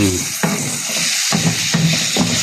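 Octopus pieces are stirred in a hot pan, with steady loud sizzling and frying broken by several distinct scraping stirs from a spoon.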